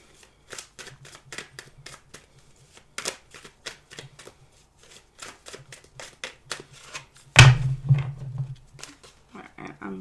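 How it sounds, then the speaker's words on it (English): Tarot cards being shuffled by hand during a reading, a run of quick crisp riffling flutters and soft slaps close to the mic, with a louder bridge-like burst near the end; a low steady hum sits underneath. "I'm going to shuffle one more time."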